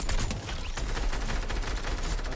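Dense, rapid gunfire in a Fortnite match, a steady loud spray of shots that runs unbroken through the whole clip with no pause.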